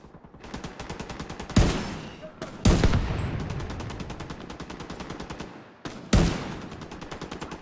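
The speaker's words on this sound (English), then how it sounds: "Dude, I like this gun." Rapid automatic gunfire from The Division 2, a shooter video game, crackling in dense sustained bursts with sharp louder shots at intervals, close and loud throughout.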